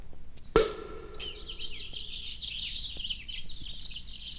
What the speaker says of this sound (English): These nightingale's tongues aren't well-seasoned at all. They're still chirping.